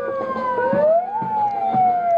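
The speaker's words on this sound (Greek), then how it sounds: "Και φυσικά και τις σιρήνες." Emergency vehicle sirens wail during the 28 October parade in Thessaloniki, with fire service and forest service vehicles passing; several overlapping tones rise and fall continuously, loud and close, alongside rhythmic thumps.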